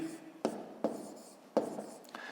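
A fifth-grade math exercise being written out by hand: three or four distinct scratchy strokes, close and fairly quiet, spaced about a second apart over a faint background, with no talking.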